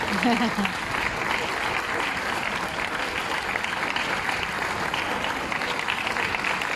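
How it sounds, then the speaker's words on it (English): Crowd applause for a dance team at an outdoor dance event, steady and dense throughout, with a voice briefly audible near the start under the clapping. "Let's have another big round of applause for Team HP Second Company."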